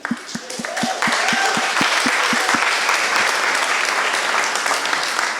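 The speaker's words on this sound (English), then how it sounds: "Great a round of applause for them." Audience applause for students who presented thesis projects at a fellowship art exhibition opening, beginning with a few distinct claps that quickly swell into steady, full applause filling the room.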